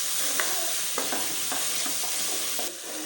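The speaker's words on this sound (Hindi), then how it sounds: "मसाले को अच्छी तरह से भून लेंगे।" Masala for restaurant-style Chicken Changezi frying hard over a high flame, a steady loud sizzle broken by repeated spatula scrapes and stirring knocks against the pan.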